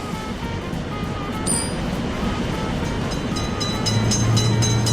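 Close and loud, a train runs through a railway level crossing for road traffic, a dense rolling rumble that swells slightly toward the end with faint wheel clicks throughout.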